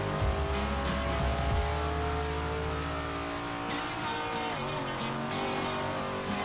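A super late model race car engine roars steadily on an oval track at Honeysuckle Grove Speedway in a racing video game, loud and continuous with pitch shifts as it revs through the corners.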